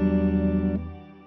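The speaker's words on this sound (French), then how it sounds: "tu as une reverb, un délai indépendant et tu as des presets" A guitar played through an effects pedal with reverb and independent delay presets sustains a shimmering, chorused chord that steps down in pitch and fades into a lingering tail.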